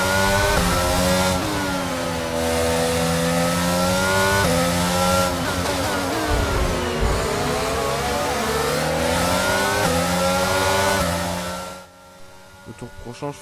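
Formula 1 racing cars in the video game F1 22, loud high-pitched engines screaming and shifting pitch as they accelerate and race past, continuous and close, ending in a sudden drop to quieter engine noise.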